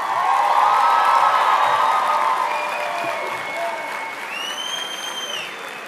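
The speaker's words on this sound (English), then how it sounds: "you're going to have to give a really huge round of applause for Natalie Carter" Applause and cheering from a convocation audience for a hospitality graduate crossing the stage, a loud dense wash of clapping with whoops that gradually thins, plus a few whistles near the end.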